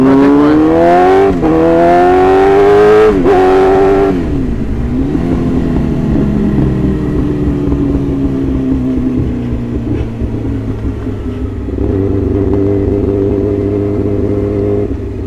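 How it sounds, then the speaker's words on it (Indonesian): A 2020 Yamaha R6 sport bike fitted with an SC Project exhaust revs hard several times in quick rising bursts, then settles into a loud, steady, throaty idle that carries alone to the end. "kita bakal bikin konten pure sound motor ini boy. Ini pakai SC Protect boy."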